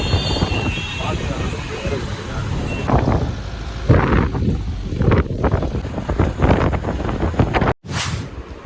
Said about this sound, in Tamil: காற்று அங்கிருந்து அடிக்குது.